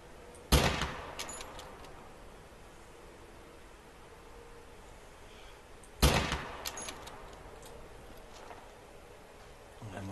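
Two loud rifle shots ring out in theHunter: Call of the Wild while hunting ibex, each a sharp blast followed by a fading echo, spaced several seconds apart over quiet outdoor ambience.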